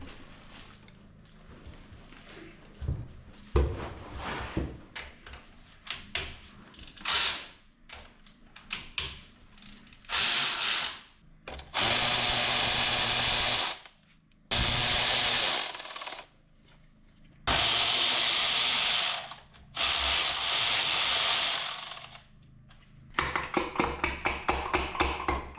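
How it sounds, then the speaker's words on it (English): Connecting rod bolts being loosened on a scrapyard Kubota diesel tractor engine: scattered metallic taps and clanks, then four long, loud continuous bursts of tool noise separated by short pauses, and a closing flurry of rapid clicks. "I have to loosen the connecting rod bolts and then the pistons will come out the top."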